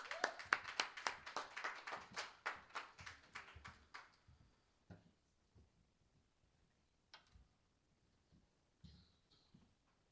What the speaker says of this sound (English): Please welcome, give a warm round of applause to Jasper Lipak.